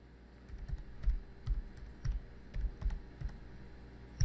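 Keystrokes on a computer keyboard while a file name is entered during certificate export on a LAN server, irregular clusters of close, quiet taps with brief pauses.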